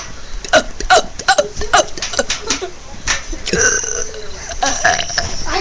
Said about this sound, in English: A burp's coming out.